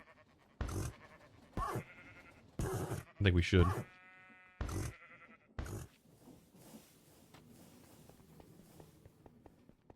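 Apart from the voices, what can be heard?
sheep bleating in a video game (Minecraft)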